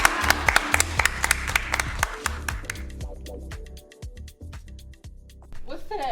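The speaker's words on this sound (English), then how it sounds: "give yourself a round of applause for that" Teens clap after their theater performance at 7 Angels Theater in Waterbury: sharp, scattered hand claps crowd together at first, then thin out into sparse slaps, with voices and low background sound running underneath.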